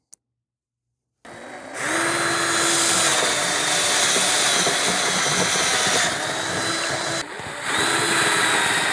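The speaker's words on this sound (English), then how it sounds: "So we're going to use this drill bit." A power drill whirs loudly and steadily while drilling a bolt hole in wood, after a brief silence, with a short pause before it spins up again near the end.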